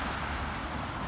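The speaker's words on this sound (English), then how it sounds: "the sounds of the cars driving by is taking away most of my echoey voice" Cars pass by on a road in Slough, heard as a steady, moderately loud wash of traffic noise with no talking.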